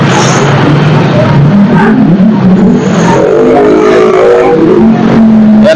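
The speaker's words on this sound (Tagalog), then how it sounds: "Yan po, nagkakabuhol-buhol ng traffic" Heavy, congested road traffic near Taytay Arena: loud, close engines rev and accelerate in a dense mix, with cars passing one after another and no pause in the noise.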